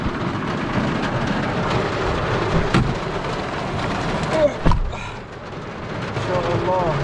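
A thunderstorm with rain northeast of Hail and Qassim gives a constant loud wash of falling rain, with a sharp crack and rumble near the middle, while people talk over it.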